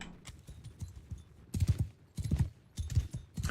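Horse hooves clip-clop in the Mount & Blade video game, a run of light, quick, uneven thuds with no talk over them.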